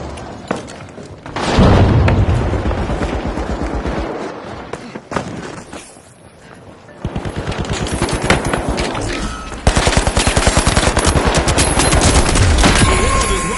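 A frag grenade thrown and exploding in The Finals, a loud close blast early on, followed by sustained rapid automatic gunfire and further booms.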